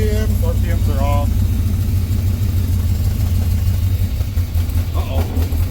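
A newly installed engine in someone's buggy runs steadily at a loud, rough idle with low rumbling throughout, while voices talk briefly over it near the start.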